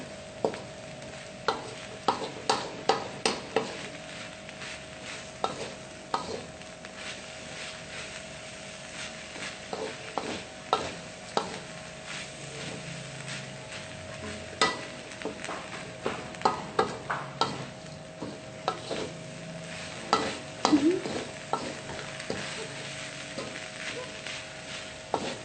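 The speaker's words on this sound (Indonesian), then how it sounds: "ini misalkan pada saat mengaduk seperti ini" Steamed grated coconut and urap spice paste stirred in a pan, a steady soft sizzle broken by frequent scraping clicks of the utensil against the pan, close and fairly even throughout.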